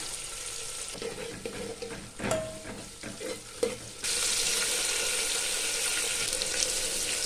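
Onion, green chillies and curry leaves sautéing in a pan for sambar, with a few stirring clinks and scrapes over a steady sizzle that turns louder and fuller partway through, heard close with no talking.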